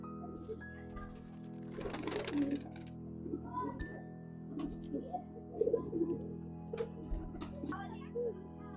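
Soft pigeon coos repeat in the background beneath a steady mechanical hum, with people talking nearby.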